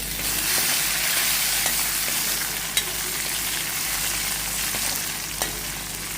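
Spices tempering in hot oil for kootu crackle and sizzle in a pan, a loud, continuous close-up frying hiss with a few sharp pops, with no voices over it.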